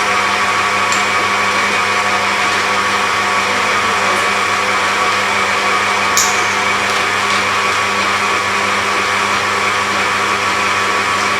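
An electric mixer quickly beats Lotus Biscoff cupcake batter, giving a steady, loud motorized whir that holds unbroken for the whole stretch with no talking.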